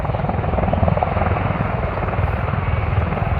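A military helicopter at a Marine Corps air station airshow, its rotor and engine producing a loud, steady throbbing roar that holds constant throughout without a break.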